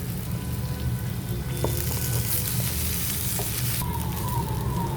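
Cooked rice for South Indian lemon rice is stirred and mixed in a pan over a low flame, a continuous soft sizzle with scattered scrapes and clicks of a spoon, close and steady.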